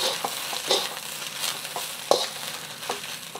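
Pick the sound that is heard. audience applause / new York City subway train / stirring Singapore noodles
stirring Singapore noodles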